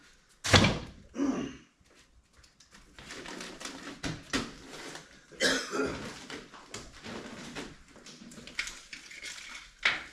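A door is busted open during the testing of a MechMaxx pallet truck: a loud slam and thunk at the start, followed by further knocks, clatters and banging that come and go.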